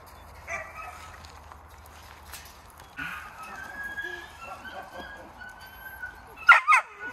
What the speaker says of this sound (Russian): Первый раз слышу, как он гавкает